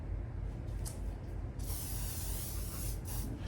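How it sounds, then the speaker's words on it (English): Aerosol leaf shine sprayed onto artificial flower greenery: a few faint puffs, then one continuous close hiss for about two seconds, with no talking. "I'm going to go ahead and spray some leaf shine."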